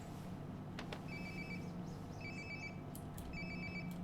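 A cell phone rings nearby in a video game, a repeating electronic trill in three short bursts over steady background hum, with no talking.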